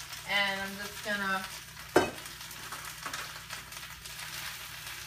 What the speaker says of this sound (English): I let the garlic cook for a little while, and it's browning. So now I'm going to just put the spinach over it